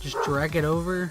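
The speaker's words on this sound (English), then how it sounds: "sorry for the dog barking in the background" A dog barks and yips in the background while a person speaks over it.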